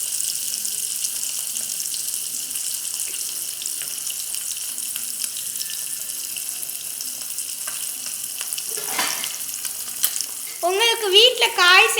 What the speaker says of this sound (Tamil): இது எண்ணெய் இப்படி பபிள்ஸ் வரும்போது அதை கொஞ்சம் கிண்டி விட்டுக்கணும்.